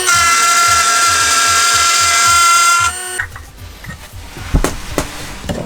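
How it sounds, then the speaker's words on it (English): A handheld Dremel rotary tool cutting, loud and steady with a high whine for about three seconds, then it stops and gives way to scraping and handling noises. "we're gonna get the Dremel I got for Christmas"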